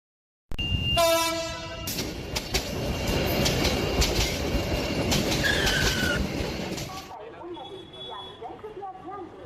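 An animated horror story scene in which a train pulls away, with a loud horn blast at the start, rumbling wheels and clattering cars passing close, then a sudden cut to quieter ambience with a voice speaking.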